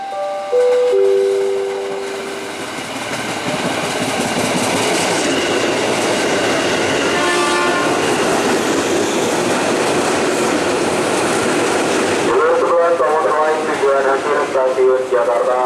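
A KRL Commuter Line electric train departs Manggarai station, rolling loudly and steadily with wheel clatter and some squeal, while station announcements sound over it at the start.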